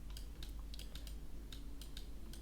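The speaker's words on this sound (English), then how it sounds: "So for the rest of it, I'm going to use my actual keyboard." Typing on a computer keyboard, quick irregular clacks of keys at close range over a low steady background hum, with no voices.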